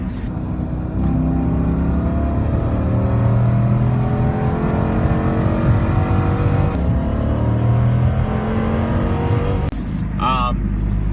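A Dodge Charger R/T V8 with a five-speed NAG1 automatic revs up toward its shift point, a loud droning engine note that rises and settles, with a brief sharp noise near the end.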